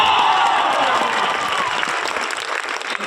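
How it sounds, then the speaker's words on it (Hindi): An audience at a company's third anniversary event claps loudly together, a dense burst of applause that starts strong and gradually thins toward the end. "तो एक बार 3 साल जो कंप्लीट हुआ उसके लिए 3 साल वाली ताली बजाइए।"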